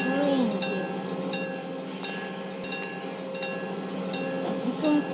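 Train running in a canyon-themed train video game: a steady rolling rumble with repeating rail clicks and brief squealing tones near the start and end, loud and continuous with no talk.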